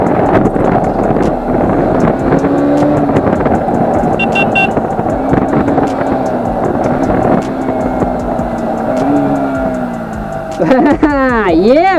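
A 2020 KTM Duke 200 BS6 motorcycle engine pulls steadily while riding, its pitch rising and falling through gear changes under constant wind rush, with a sharp rising rev sweep near the end.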